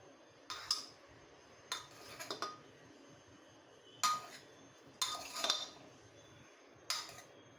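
A metal spoon clinks and scrapes against a pressure cooker while cumin rice is mixed, giving five or six separate bursts of sharp metallic taps with quiet gaps between them.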